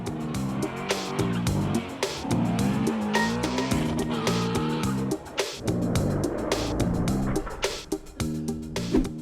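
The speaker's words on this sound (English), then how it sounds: "The drifting car spins out of control, causing multiple collisions." A drifting car skids and spins out of control, tires squealing loudly over a roaring engine, with a continuous dense run of screeches, thumps and impacts throughout.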